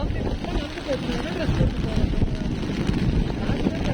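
Strong cyclone wind during heavy rain in Chennai roars and buffets the microphone in a continuous loud rumble, with gusting rises and falls throughout.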